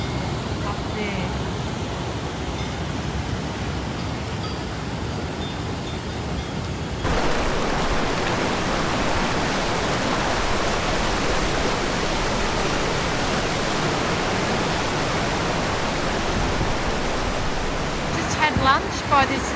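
A waterfall and a flowing mountain stream in the Alps rush with dense, steady broadband noise that jumps louder partway through as the sound comes closer, continuing unbroken to the end.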